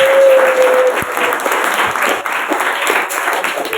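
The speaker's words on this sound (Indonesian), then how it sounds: "Tepuk tangan untuk grup A" Loud, dense applause from an audience at an Indonesian Islamic boarding school quiz competition, steady clapping filling the whole stretch for group A, with a brief tone at the start.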